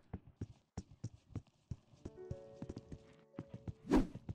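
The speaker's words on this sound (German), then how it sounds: "Wir sind jetzt mittlerweile im schnellsten Galopp." Hooves of an Arabian mare galloping in the horse-riding video game Equestrian the Game, a quick rhythmic clip-clop of repeated thuds, with a brief snort or whinny near the end and a soft musical tone underneath.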